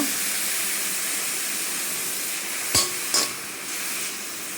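Coriander and mint leaves frying on a low flame, a soft steady sizzle and hiss close by, broken by two quick clinks of a utensil against the pan.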